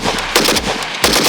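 A cheap AK rifle fires in bursts on a hot day, a couple of sharp, loud automatic volleys cracking close by in quick rhythm.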